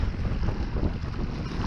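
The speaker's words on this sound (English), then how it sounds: "It's a windy one today." Strong wind buffets the microphone on a kayak out on the water during a fishing trip, a constant low roaring rumble with lapping water beneath and no talking.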